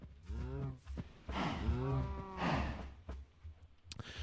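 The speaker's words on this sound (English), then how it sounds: "Let's keep grabbing them cows." Cows in the video game Minecraft moo several times in succession, low drawn-out calls close by with short gaps between them, clear and unaccompanied by talk.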